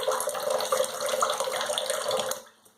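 Water runs steadily from a bathroom tap into a sink, a loud close hiss and splash before shaving, then cuts off abruptly near the end.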